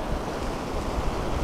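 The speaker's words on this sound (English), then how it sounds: "It's also very windy." Strong wind buffets the microphone over the rolling surf on the Bouctouche Dunes shore, a loud, continuous roar of blustering air and breaking waves.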